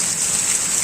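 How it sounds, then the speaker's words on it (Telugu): Heavy storm rain pours down in front of a house, a steady, loud, close hiss of falling water with no breaks and no voices. "చూడండి ఇంటి ముందు చూడండి ఎలా వస్తుందో వర్షం."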